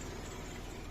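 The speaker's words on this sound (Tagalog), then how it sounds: "Grabe yung tunog ng sasakyan ko." A car engine running, a low, fairly quiet rumble with a regular pulsing beat that holds steady throughout, with no voices.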